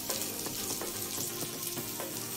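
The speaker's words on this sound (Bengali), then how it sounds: "দিয়ে আমি এখন নাড়াচাড়া করে নিচ্ছি।" Semolina being stirred and dry-roasted in a pan for paneer semolina pulao, a steady close scraping and faint crackle with regular stirring strokes running throughout, no voices.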